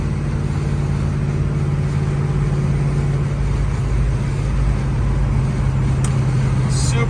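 A 1970 Chevrolet Chevelle SS 454 restomod cruising at speed in tall fifth gear at low revs gives a steady, loud low engine drone with road and wind noise, continuous throughout, with no talking.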